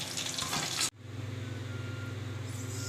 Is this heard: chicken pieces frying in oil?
yes